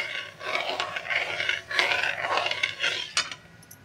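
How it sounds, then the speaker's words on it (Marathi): A spoon scraping and stirring sugar syrup in a pan, with repeated rhythmic scrapes and metallic clinks close up and no voices. "साखर विरघळूपर्यंत असं हलवत राहायला पाहिजे."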